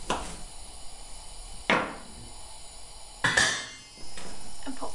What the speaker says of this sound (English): we've got 8 ears of baby corn, which I'm slicing down the centre and then in half